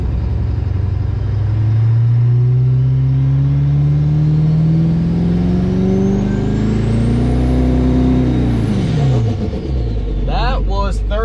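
An LMM Duramax diesel truck with a big single turbo revs hard and close, engine pitch climbing steadily with a rising turbo whistle spooling above it, then dropping off. A voice talks over part of it.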